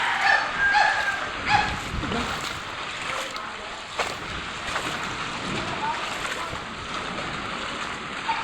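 Steady rushing floodwater surrounds and enters a house, a broad surging wash with gusts of wind, while faint voices and a distant dog bark come and go.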